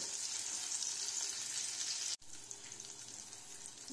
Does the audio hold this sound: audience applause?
no